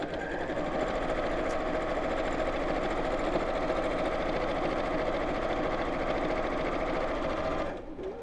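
A sewing machine runs steadily at an even, fast stitching pace while sewing a pearl bead handle purse, close and continuous for several seconds before stopping abruptly near the end.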